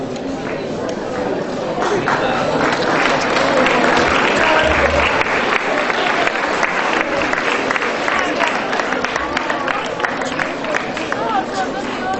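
Audience applause at a school annual appreciation day for students receiving awards, a loud, continuous roar of many hands clapping with a faint murmur of voices underneath.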